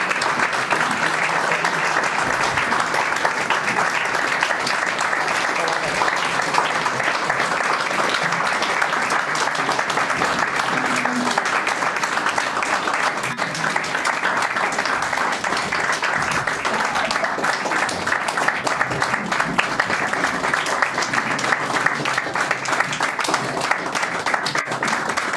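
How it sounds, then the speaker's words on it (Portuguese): Sustained audience applause fills a piano and violin recital hall, steady and dense from start to finish, with faint voices mixed in underneath. "eu peço uma grande salva de palmas para os nossos pequenos artistas"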